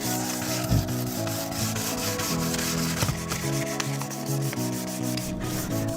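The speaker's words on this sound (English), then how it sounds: "a very light sand down with a fine sandpaper" Fine sandpaper is rubbed lightly over a UPVC door in a steady, close scratching rhythm of short back-and-forth strokes, with no talking.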